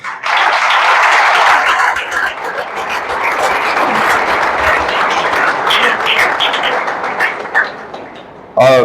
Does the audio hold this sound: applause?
yes